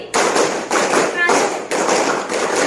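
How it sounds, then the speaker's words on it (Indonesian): A classroom of students claps in unison in a counted pattern, producing a few broad, evenly spaced bursts of clapping. "Tepuk 5 kali 3 kali."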